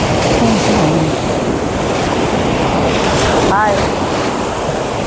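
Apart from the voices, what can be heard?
ocean waves at Marina Beach, Chennai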